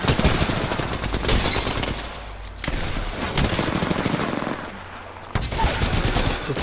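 Rapid automatic gunfire in Apex Legends: sustained bursts of close, loud shots broken by two brief pauses before the firing resumes.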